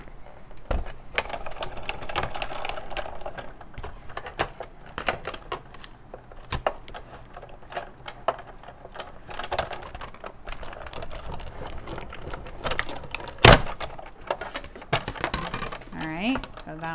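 Paper in an embossing folder being cranked through a manual embossing machine, producing steady mechanical clicking and grinding that rises and falls irregularly over a quiet background, with one sharp metallic clink near the end.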